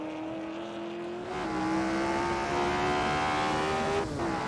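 A race car engine in Assetto Corsa whines steadily at high revs down the main straight of the Braunschweig Prinzenpark street circuit, rising slightly in pitch, with a faint tire hiss underneath and a short gear-shift dip.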